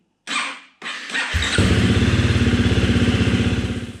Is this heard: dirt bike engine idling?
yes